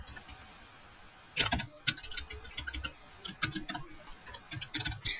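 Computer keyboard keys clatter in quick irregular bursts, close and crisp, as values are typed into AutoCAD, with short pauses between runs of keystrokes.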